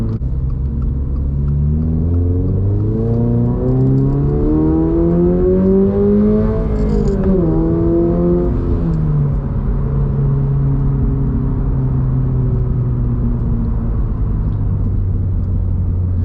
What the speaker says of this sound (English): See if we can do a rev match in a second.